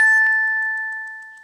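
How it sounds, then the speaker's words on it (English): A single bright electronic chime from a Samsung Galaxy Watch5 Pro marking the hour, a clean two-tone ding that rings out and slowly fades, heard alone and close. "Oh, it also does hourly chimes."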